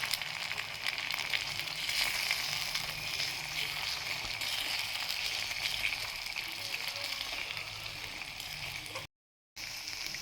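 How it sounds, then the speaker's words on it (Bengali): Onions fry in oil on a miniature gas stove with a continuous, rain-like crackling sizzle that holds steady and close, broken by a brief silent gap near the end. "পেঁয়াজগুলো আমার ভাজা হয়ে গেছে এবার আমি তেলটা দিয়ে দেবো"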